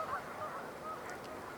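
Northern pintails and green-winged teals calling in a wetland, faint soft honking and whistled notes over steady outdoor background noise, no voices.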